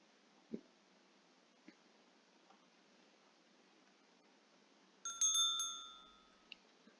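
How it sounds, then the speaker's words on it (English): Doorbell in a video game ringing at a room door, a bright chiming ring that sounds once loudly and then decays, after a few faint taps and clicks in a quiet room. "Someone must be ringing the bell at my room, and they're doing it repeatedly."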